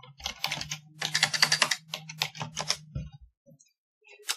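A computer keyboard clatters close by in quick bursts of key presses with short pauses, then a few last taps.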